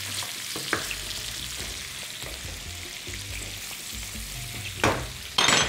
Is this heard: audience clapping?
no